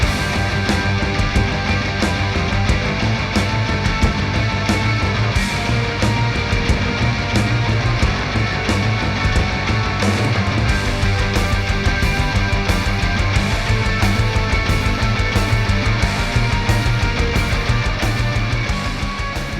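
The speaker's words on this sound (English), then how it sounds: "I'm using a simulation of a JCM 800 with my Headrush FX unit" A distorted electric guitar plays continuously through a simulated Marshall JCM 800 amp on a Headrush FX unit, with a crunchy tone and a touch of reverb, steady and loud throughout.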